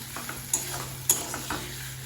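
Boiled potatoes are stirred into spice masala in a hot pan, a soft sizzle running underneath while a spoon scrapes and knocks a few times at close range.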